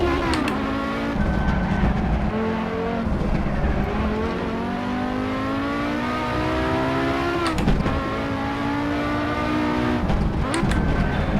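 An Audi Quattro racing at high speed on the Targa Florio road course in Assetto Corsa, its engine screaming loud and continuous, with revs climbing in sweeping tones and sharp breaks at each gear shift.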